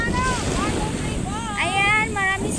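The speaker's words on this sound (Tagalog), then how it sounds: "Ang lakas ng alon, mga guys." Strong sea waves crash and roar at a beach, with wind buffeting the microphone and children's voices chattering over the surf.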